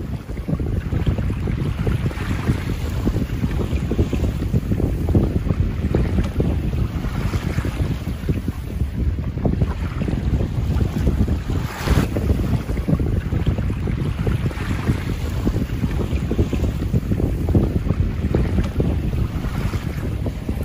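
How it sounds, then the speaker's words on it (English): Steady wind buffets a microphone aboard a small sailboat crossing Chilkat Inlet, with continuous rushing and low rumbling gusts mixed with faint wave wash for about twenty seconds, and no voices. "The wind is fair."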